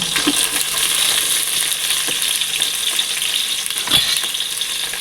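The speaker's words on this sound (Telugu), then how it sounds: "తగినంత ఎర్రగడ్డలు అయితే వేసేసుకున్నాం" Onions frying in hot oil for chicken biryani, a loud, dense, continuous sizzle up close with occasional soft pops and stirring clicks, no voices.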